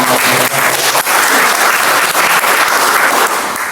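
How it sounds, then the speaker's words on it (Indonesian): A seminar audience at an international faculty event gives dense, loud applause, a continuous wash of many hands clapping that stays steady and tapers only slightly at the end. "Tepuk tangan dulu untuk"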